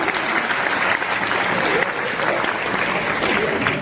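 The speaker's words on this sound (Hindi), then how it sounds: "एक बार तालियां बजा दो।" A seminar audience in Ludhiana, Punjab breaks into dense, steady applause. The many hands clap together at a constant, fairly loud level with no break.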